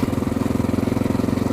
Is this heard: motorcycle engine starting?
yes